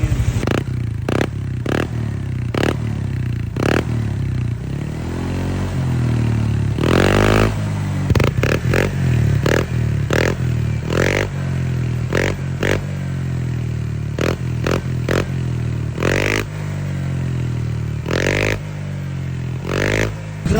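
A Honda Click scooter fitted with an MT8 stainless exhaust tip revs repeatedly, close and loud, its throttle blips rising and falling over a steady idle with a rattly edge.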